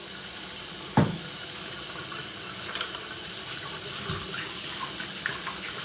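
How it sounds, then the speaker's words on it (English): Tap water runs steadily into a sink as hands are rinsed, a constant close wash with a couple of brief splashes and no talk. "Rinse hands. A little soapity soap."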